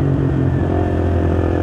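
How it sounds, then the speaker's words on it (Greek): A KTM Duke 390 with a BlackWidow exhaust revs close by, a loud, raspy single-cylinder growl holding high with a steady harmonic tone across a short burst. "Όπου η εξάτμιση ουρλιάζει πραγματικά στο τερμακάλι και στις πολλές τροφές."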